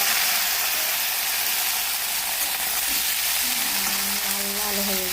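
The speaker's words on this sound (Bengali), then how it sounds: "ফুলকপিগুলো ভেজে নেব।" Cauliflower florets fry in hot oil in a kadai, giving a loud, steady sizzle throughout with faint stirring sounds near the pan.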